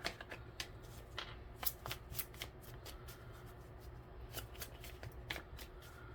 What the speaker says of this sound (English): we're going to do another shuffle here